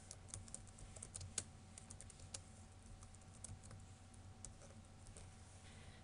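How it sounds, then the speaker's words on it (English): Light clicking of keys on a computer keyboard during a game design lab, a steady run of soft taps with a few sharper strokes, close and quiet, with no speech. "I'm going to delete the text, and I'm going to type here, Player 1 wins."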